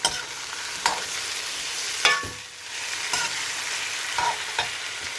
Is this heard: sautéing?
yes